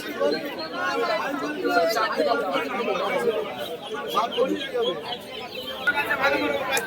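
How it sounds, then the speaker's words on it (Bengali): Bustle at a busy poultry market selling chickens and ducks: dense crowd chatter and voices fill the scene, with occasional clucking from birds mixed into the steady hubbub. "এখানে রয়েছে মুরগি হাট মুরগি হাঁস মুরগি সমস্ত কিছু পাওয়া যায় এই হাটে"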